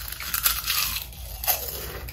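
Loud, crisp crunching of crispy meringue cookies being bitten and chewed, several at once, several bursts close to the mic with no talking.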